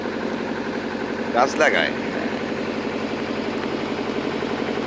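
A trawler's engine drones low and steady on the Pasur River in the Sundarbans, running continuously through the moment while someone talks over it and a brief louder burst breaks in midway.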